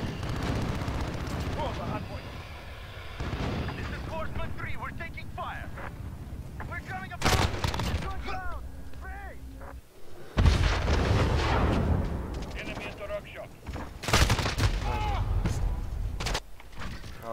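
Gunfire and explosions in Call of Duty: Modern Warfare multiplayer, with heavy booming blasts and bursts of fire over a steady low rumble, mixed with voices speaking throughout.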